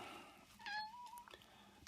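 A single cat meows near the listener indoors with a clear rising-falling tone, then goes quiet over a soft background hum.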